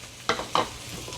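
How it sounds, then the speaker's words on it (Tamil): Onion and tomato crackle as they fry in a hot pan with a couple of stirring scrapes and soft sizzling bursts, close and fairly quiet. "நல்லா தாளிக்கட்டும்."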